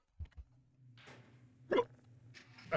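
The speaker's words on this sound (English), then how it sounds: "Sorry, bad hiccups." Hiccups from a man during a Half-Life 2 gameplay session, a few short sharp bursts close to the microphone over a low steady game hum, with a louder catch near the middle and another at the end.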